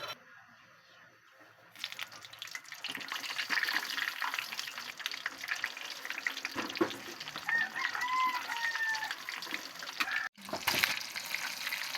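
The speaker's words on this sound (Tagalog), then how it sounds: "Dito lang magpiprito ng talong sa pinagpritohan ko ng manok." Steady crackling sizzle of eggplant frying in hot oil previously used for chicken, continuous and close, starting quietly then swelling into a dense hiss with a few faint bird-like chirps.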